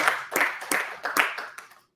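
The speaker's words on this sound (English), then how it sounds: "Round of applause, please." A small audience at a campus blockchain club open house claps briefly for a couple of seconds, scattered hand claps fading out, no voices.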